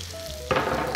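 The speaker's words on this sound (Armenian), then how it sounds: "Տապակում ենք այնքան, մինչև ոսկեզոծ կեղև կապի" Food hits a hot pan greased with a few drops of vegetable oil, and after a brief quiet moment a loud, close sizzle bursts out and keeps crackling.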